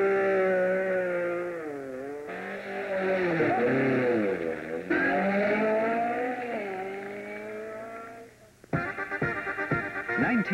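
Works rally cars, including a Datsun, Fiats, Peugeots and Mercedes, leaving the start of a 1980 special stage near Tucumán, Argentina: engines rev and rise in pitch one after another, loud and close, ending in rough bursts of acceleration.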